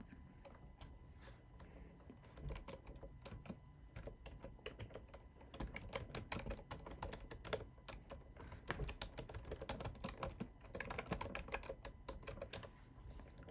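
Sustained typing on a computer keyboard during a stock market prep session, with fast, uneven runs of soft clicks that pause and resume for over ten seconds. The typing is fairly quiet and close, with no talk.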